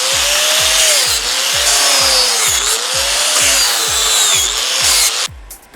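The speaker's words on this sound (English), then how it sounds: "And then grind to perfection." A power tool grinds a carved wooden bear in a log, loud and close, the motor pitch rising and dipping with a rhythmic pulsing as the tool works the wood before stopping abruptly.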